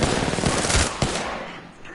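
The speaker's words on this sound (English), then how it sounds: "Shots fired and they're hitting me." Automatic gunfire in the Apex Legends battle royale game, a dense loud burst of rapid shots with a couple of sharper reports near the middle, fading slightly toward the end.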